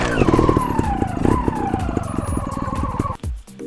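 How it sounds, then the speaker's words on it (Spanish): A trial motorcycle in second gear, suspension compressed hard, revs and lunges its rear wheel up onto a rock step; a loud, close engine drone with rising pitch and rapid throttle pulses, then a sudden cut as it lands. "Voy a hacerlo en segunda marcha, hundo fuerte la suspensión y me llevo la moto con la rueda trasera lo más arriba posible."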